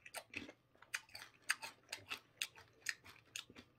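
Hershey popcorn is chewed close up, giving about a dozen crisp crunches in a quick, uneven rhythm over a quiet background.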